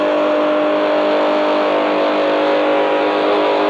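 A car engine revs in a video racing game as the vehicle nears top speed, a steady loud continuous drone holding throughout with no break.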